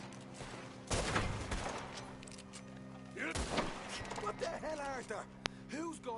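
Gunfire in a Red Dead Redemption shootout: heavy shots and thumps burst out amid shouting voices, followed by scattered sharper reports as talking continues over the fight.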